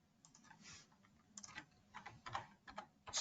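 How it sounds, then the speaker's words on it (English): An email address is typed on a computer keyboard as faint, close key clicks coming in short irregular bursts with brief pauses between them. "So let me just type that in to the"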